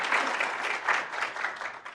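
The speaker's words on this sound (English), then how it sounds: "please feel free to clap when the guests come up" Dense audience applause fills a conference launch event for GATK4 software, steady and loud throughout as guests walk up to the stage, with no speech over it.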